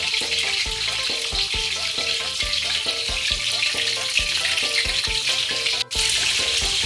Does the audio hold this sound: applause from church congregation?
no